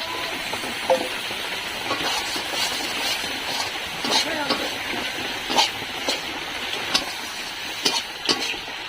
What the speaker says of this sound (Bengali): এর মধ্যে ইলিশ মাছের মাথা ভাজাগুলো দিয়ে দেবো